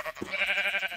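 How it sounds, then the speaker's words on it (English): Sheep bleat in a video game, one wavering bleat held for most of a second, close and clear with nothing else around it. "There's sheep everywhere!"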